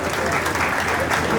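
Audience applause at a book publishing event fills the room with steady, dense clapping, loud and close throughout, with no voice on top.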